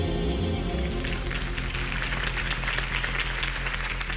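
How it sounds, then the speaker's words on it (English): Crowd in the Batman Telltale video game applauds Harvey Dent's campaign speech, a dense, sustained clapping that swells in after a fading musical tone and continues evenly. "If only Mr. Wayne, my campaign's largest backer, could have heard that applause"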